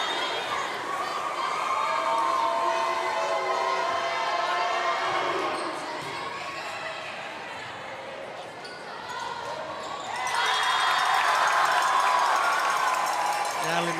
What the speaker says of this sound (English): You hear the crowd with the Linsa chant.